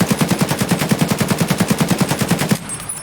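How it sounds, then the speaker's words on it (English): Rapid automatic fire from an AKM rifle in Escape from Tarkov while the shooter strafes, a steady stream of about twenty close, punchy shots over two and a half seconds before cutting off abruptly. "Let's try shooting at a target while strafing,"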